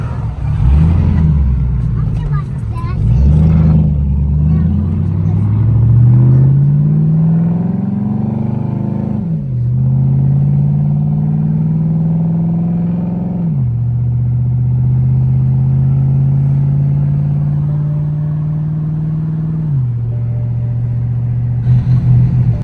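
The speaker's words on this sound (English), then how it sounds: "It's definitely a little weird being a BMW, sounding like this, driving like this" A BMW with an LS V8 swap pulls through the gears while driving, its deep rumble rising in long sweeps between shifts, loud and close, with someone talking over it.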